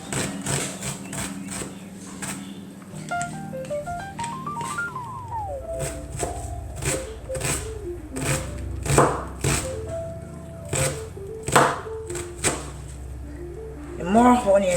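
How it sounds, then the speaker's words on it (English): A knife chops spring onion on a cutting board in rapid, sharp, evenly spaced strikes, close and crisp, with a few louder knocks, while a melodic tone plays faintly in the background. "Now I'm gonna cut the spring onion in small."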